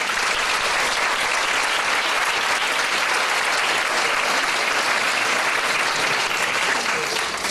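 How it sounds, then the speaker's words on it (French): An audience applauds in a concert hall, a dense, even wash of clapping from many hands that continues strongly and steadily without a break. "je vous demande de les applaudir"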